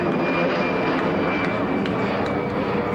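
Steady, loud roar of a jet plane passing overhead at an outdoor high school baseball game, continuous and broadband without pauses.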